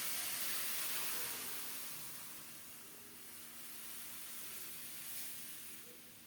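Water from boiled arum (kochu) is poured into a hot frying pan of fried vegetables for a hilsa fish curry. It makes a soft, steady steam hiss that swells and fades slightly, heard alone at low volume.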